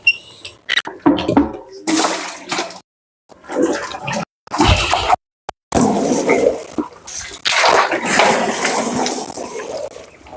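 Water drawn from a roughly 15-meter well poured by the bucketful into a container for ducks, coming in repeated splashing, gushing bursts separated by short silences, fairly loud and close.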